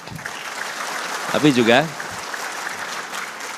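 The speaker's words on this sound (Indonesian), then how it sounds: "boleh tepuk tangan" Applause from the audience at a political speech event rolls along as a steady wash of clapping, with a voice briefly speaking over it midway.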